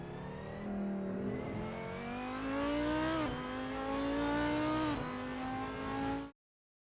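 An Audi Spyder convertible in Assetto Corsa, with engine sound taken from an Audi R8 LMS Ultra race car, rises steadily through the gears in loud close revving sweeps with brief shift dips before cutting off abruptly.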